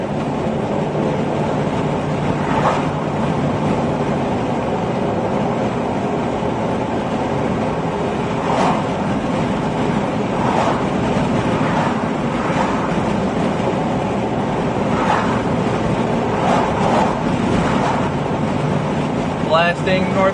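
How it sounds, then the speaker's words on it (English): Strong wind roars steadily during a weak tornado storm in Kansas, a loud continuous rush with gusty swells throughout, the surge sounding almost like a passing train. "Ooh, strong wind."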